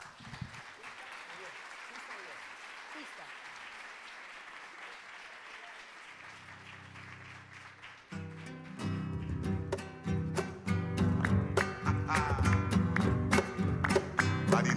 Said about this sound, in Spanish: Marinera peruana.